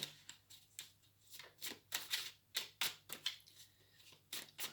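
A deck of tarot cards is shuffled by hand, giving a series of quick, close riffling and snapping bursts in an uneven rhythm across a few seconds.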